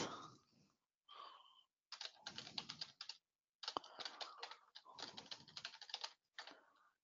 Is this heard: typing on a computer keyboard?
yes